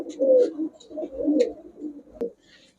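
Giribaj highflyer pigeons at a market give several throaty, rolling coos in a row, close and clear, with a brief sharp knock near the end.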